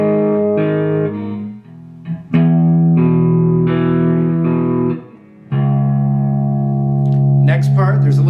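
Distorted electric guitar riff dropping to the open sixth string, sustained chords ringing loud and close with short gaps and a brief pause between phrases, played alone.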